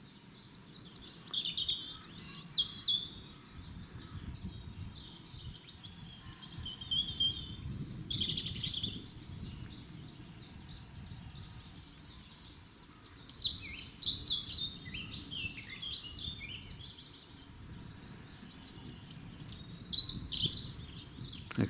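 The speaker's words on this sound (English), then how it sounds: "Listen to those birds." Woodland birds singing in St Columba's Wood, several high chirps and trilling phrases scattered across the stretch, some close and bright, others softer in the distance, over a low rustling outdoor background.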